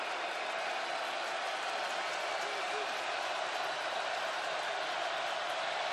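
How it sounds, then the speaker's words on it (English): A steady, dense roar from a stadium crowd at an NFL game between the Detroit Lions and the Denver Broncos stays constant throughout, with a commentator talking over it. "as this crowd tries to get cranked up."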